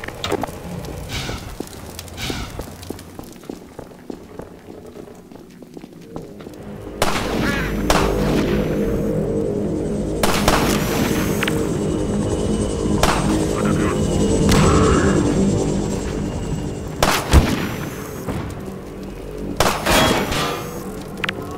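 Sniper rifles crack in Half-Life 2 amid a pinned-down firefight, sharp single shots ringing out between stretches of rumbling battle noise, with a few loud reports standing out and a voice shouting at times.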